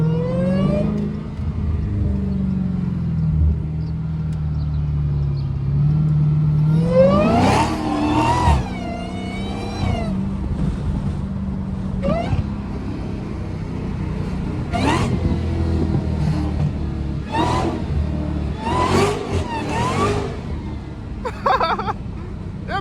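A Dodge Challenger Hellcat engine revs and whines as it accelerates, rising in pitch repeatedly through gear changes, loud and close with no talking.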